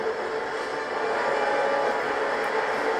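A steady, loud rumbling roar of a train in motion fills a scene from The Falcon and the Winter Soldier, continuous broadband noise with no breaks and no talking.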